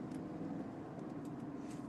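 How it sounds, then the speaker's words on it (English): Faint, steady traffic noise from cars backed up near a school zone, a low continuous roadway rumble with no distinct passes and no talking. "Too many cars blocking out."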